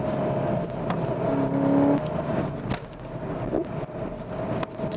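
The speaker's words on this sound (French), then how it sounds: "À chaque passage de rapport, il y a une déflagration assez prononcée." Volkswagen Golf 7 GTI Clubsport with DSG gearbox accelerating, engine roaring up close with a sharp exhaust crack at each gear change, a few pops standing out over the steady drone.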